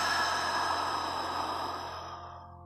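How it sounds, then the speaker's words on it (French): A long, slow exhale through the mouth during a guided meditation, a soft breathy rush that gradually fades away, heard alone over a faint tonal backdrop. "Expire long par la bouche."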